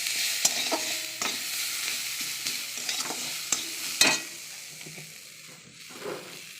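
Onion, ginger, garlic and green chilli with panch phoron fry in oil in a kadai, giving a close, bright sizzle with sharp spatula scrapes and clatters every second or so.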